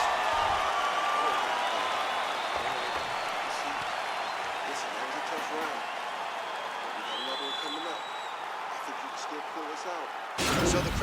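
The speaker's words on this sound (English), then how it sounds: "So the crowd voicing its appreciation after that round." Crowd cheering and applauding in the EA Sports UFC 4 video game after a round, a steady dense roar that holds for about ten seconds at a constant level, with a commentator's voice talking over it.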